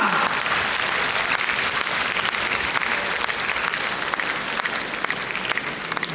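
Concert hall audience applauding a singer at an ensemble's 50th anniversary show, a steady, even wash of clapping throughout at moderate distance.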